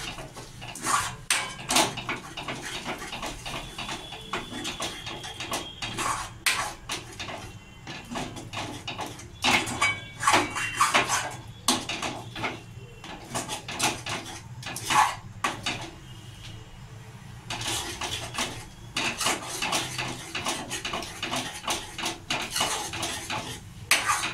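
A cooled sandesh mixture being beaten hard in a pan, a spoon scraping and knocking against the metal in fast, uneven, continuous strokes, close and busy, with occasional brief lulls.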